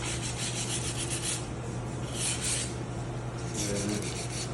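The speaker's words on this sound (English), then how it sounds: "So we lightly sand it off." Light hand sanding on a repaired venetian plaster wall gives a steady, soft scraping rub in repeated strokes, close and fairly quiet with a low hum beneath.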